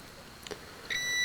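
A multimeter continuity tester beeping while probing a racing drone kit's circuit board, a short steady electronic tone that starts near the end, heard close and alone.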